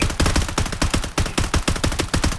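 Rapid automatic gunfire from the Blood Strike shooter game: a loud, relentless burst of closely spaced shots with a fast, even rhythm and barely any gap, with no voices.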